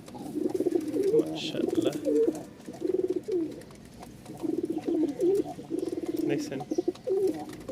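Domestic pigeons kept in pairs coo in repeated, throaty bursts close by, while someone talks briefly over them.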